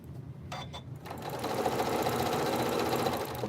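A sewing machine stitches fabric, starting with a couple of short stuttering taps before settling into a steady fast whir that runs to the end, close and clear.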